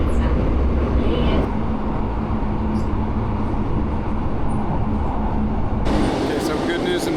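Steady low rumble and rattle inside a moving train carriage in Tokyo, with a brief quieter stretch and faint voices in the background.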